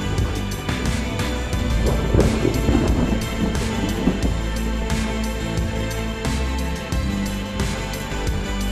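Gusty wind from an approaching thunderstorm buffets the microphone at a lakeshore fishing spot, a loud, continuous rush with a low rumble underneath.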